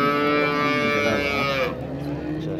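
A cow at the Oltiariq livestock market gives one long, loud, close moo that fades out near the end, with faint market noise behind it.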